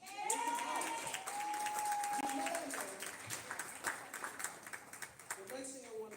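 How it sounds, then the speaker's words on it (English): A crowd at a village hall board meeting claps for the village trustees, dense applause with a few cheers and voices mixed in, thinning into scattered claps toward the end. "let's give a round of applause to the trustees"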